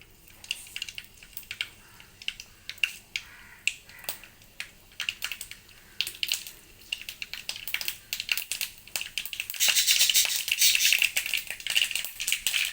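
Mustard seeds crackle and pop in hot oil while being stirred, with a quick run of sharp, irregular snaps that thickens into a dense spattering burst near the end.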